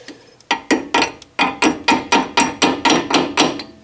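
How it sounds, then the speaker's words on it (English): A hammer taps a retaining pin into a VW Bus front disc brake caliper in a run of about a dozen sharp, close, evenly spaced metallic strikes after one opening hit, loud with nothing else over them. "And then you take a hammer."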